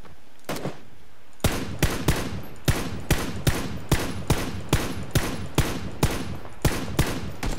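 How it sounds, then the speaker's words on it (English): Gunfire in PlayerUnknown's Battlegrounds, loud sharp shots in a steady rhythm, about two per second, after an isolated early shot and a short gap. "Getting shot at."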